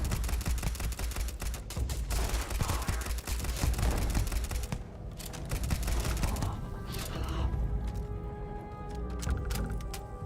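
Dense, continuous gunfire in Starfield, a steady rattle of shots at moderate level, thinning out toward the end.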